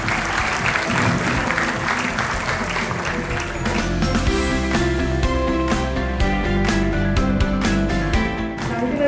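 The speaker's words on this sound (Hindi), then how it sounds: "जोरदार तालियां दोस्तों।" Loud, dense applause from a large crowd at a celebration for MHT CET 2026 toppers, steady and sustained throughout with a faint voice mixed in.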